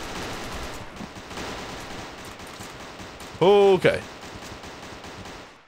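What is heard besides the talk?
gunfire in a video game, Code:29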